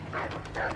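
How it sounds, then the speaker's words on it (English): Dogs in the video game Assassin's Creed 3 Remastered give a couple of quick, close yapping barks in a brief burst. "Goddamn dogs."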